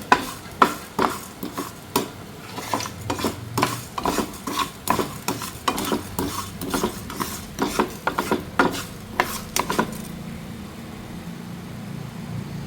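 Coriander seeds roast in a pan while being stirred, giving a steady run of scraping, rattling strokes about once or twice a second for ten seconds before the stirring stops and a low hiss remains.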